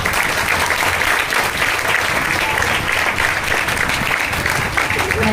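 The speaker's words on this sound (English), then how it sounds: "A big round of applause." Steady, dense applause from an audience at a career awareness program, filling the whole stretch at an even, loud level without a break.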